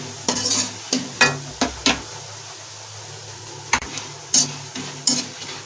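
Almonds frying in a pan after peanuts, a faint sizzle broken by about a dozen sharp scraping clicks of a spoon stirring against the metal, spaced irregularly and close by.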